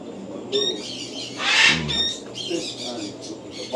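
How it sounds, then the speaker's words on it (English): Caged birds in a tropical fish and bird pet shop chirp and tweet in short, bright bursts close by, with a fluttery, scratchy flurry in between, over soft background shop noise. "We got the birds here."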